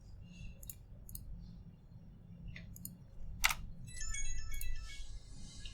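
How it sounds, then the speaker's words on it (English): A phone text notification chimes faintly under clicking keys during a game cast, its short electronic tones arriving near the end amid sparse clicks. "Get a text notification that you guys probably heard."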